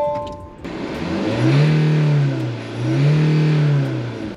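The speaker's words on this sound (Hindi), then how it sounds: "डीजल में नॉइस कितना है, तो पहले तो आपको वो दिखा देता हूं मैं" A Tata Nexon diesel facelift revs in neutral, the engine note swelling twice in smooth rising-and-falling surges with a deep diesel drone between them, heard close and alone.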